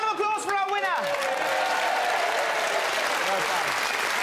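Studio audience applause for a quiz winner on a televised test show, a sustained steady clatter of clapping with a host's voice briefly heard over it at the start and near the end.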